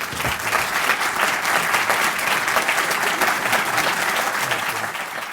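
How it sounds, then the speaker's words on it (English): Audience applause greeting a returning guest at a talk on technology, business and society, a sustained, loud, dense clapping from a large crowd that holds steady throughout. "Sam, we greet you with great applause"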